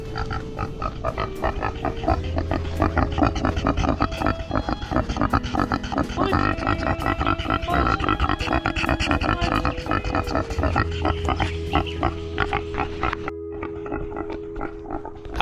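A pig grunts and oinks in a quick, steady run of short snorts, close and fairly loud throughout, with no talking.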